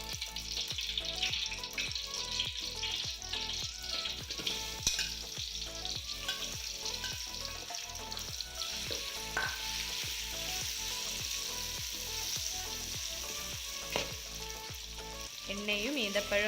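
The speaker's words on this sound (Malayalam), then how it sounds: "നല്ലെണ്ണ ചൂടായി വരുമ്പോഴേക്കും നമുക്ക് മാറ്റി വെച്ച ഈന്തപ്പഴം എടുത്ത് ഇടാം" Dates frying and being stirred in hot sesame oil for a Malappuram-style mango and date pickle: a steady, close sizzle with regular scraping stirs throughout.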